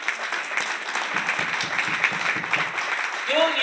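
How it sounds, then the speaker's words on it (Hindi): An audience at a program claps for a speaker, a sustained round of applause with a voice and crowd noise mixed in toward the end. "सर के लिए जोरदार ताली।"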